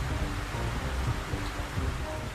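Rain falling outside a ground-floor home, a steady dense patter with a low rumbling wash, continuous and fairly loud with no voices.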